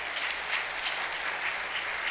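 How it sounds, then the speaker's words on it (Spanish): A congregation claps for singers at a church service, dense even applause holding steady at moderate volume for a couple of seconds with no voices over it. "Vamos a aplaudir."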